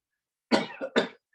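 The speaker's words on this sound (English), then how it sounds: "just cough to clear your throat." Someone gives a short, sharp cough in two close bursts to clear the throat during a yoga breathing class, loud and close against silence.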